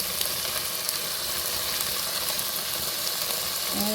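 Onions sizzling in a pan for chicken curry, a steady, fairly loud hissing fry that runs unbroken throughout with no talking.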